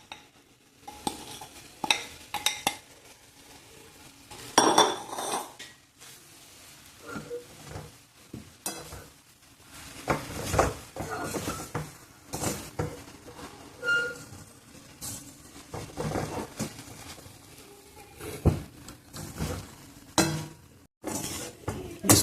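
Grated coconut stirred in a pan over a medium-low flame for coconut laddoos, with loud, close scraping and clinking of a spoon against metal in uneven bursts and a faint sizzle beneath; no voices.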